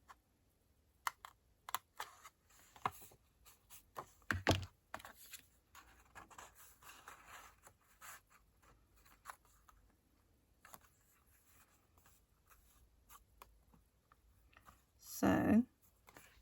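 Scissors snip through paper card while a twist-and-pop card is being made, a series of quiet, scattered close clicks and cuts spread over several seconds, ending in a louder rustle.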